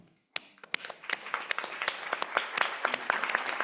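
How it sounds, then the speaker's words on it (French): Applause from an audience at a French-language community report event, starting abruptly and building into dense, irregular clapping that stays moderately loud throughout. "je vous invite à vous lever pour qu'on puisse vous applaudir"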